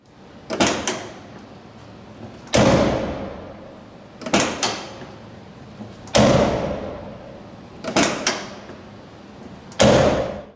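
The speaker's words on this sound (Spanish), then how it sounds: "este coche tiene uno de los mejores sonidos de pestillo de puerta de todos los tiempos. Escucha algunas aperturas y cierres." Door latch of a Porsche 993 Turbo opened and shut repeatedly, six crisp mechanical clacks in pairs at steady intervals, each with a solid thud and short ringing decay, loud and close with no talking.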